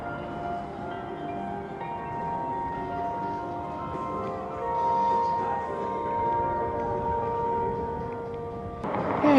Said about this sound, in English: As the church bells play America the Beautiful